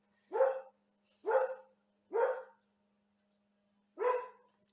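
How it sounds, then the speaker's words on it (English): A dog passing by outdoors barks four times in short, evenly spaced, sharp barks, clear against a quiet background. "There's literally a dog from up the hill walking past us."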